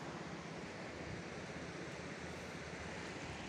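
A river near El Espinal, close to Huajuapan in Oaxaca's Mixteca region, flowing with reduced volume, heard as a steady, dense broadband rush of water that stays constant throughout, close and loud with no voices.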